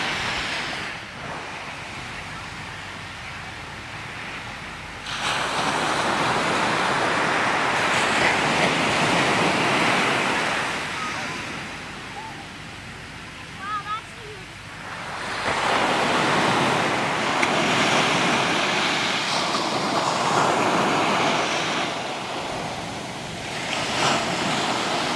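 Ocean waves break and wash up on a Virginia Beach shoreline at sunrise, a steady roaring surf that swells in loud surges with quieter lulls between, with some wind noise and no talking.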